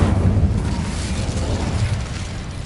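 A fiery Incendio spell blast in Hogwarts Legacy, a loud, broad, sustained rumbling whoosh of flame lasting a few seconds at steady volume with no voices.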